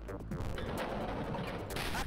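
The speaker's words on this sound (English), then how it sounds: "God, I love that explosion sound." A rumbling explosion with a crashing burst of noise in the Wolfenstein 3D mod Coffee Break, fairly loud and continuous over about two seconds, with no one speaking.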